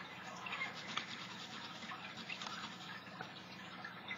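A paintbrush dragged back and forth through a stencil in a dry-brush stroke on a mixed media background, a soft, steady bristly scratching close by with no pauses.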